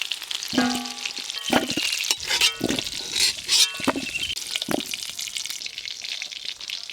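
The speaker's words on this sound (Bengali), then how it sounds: "আলু পেঁপে ভাজা হয়ে গেল, কোড়াতে আর একটু সর্ষের তেল দিয়ে দেবো" Potato and papaya pieces fry in oil in a pan, a steady close sizzle broken by a few louder scraping stirs near the start, then settling into an even hiss with no one speaking.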